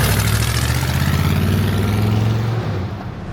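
A 1987 Chevrolet Silverado 4x4 short-bed pickup with a 4-speed gearbox pulls away, its loud, close engine rumbling steadily before fading slightly at the end.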